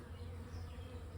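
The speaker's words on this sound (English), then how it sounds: "look at all those bees buzzing around it already" Dense, steady buzzing of many bees around a swarm trap box baited with Swarm Commander lure outdoors, a continuous close hum with no talk.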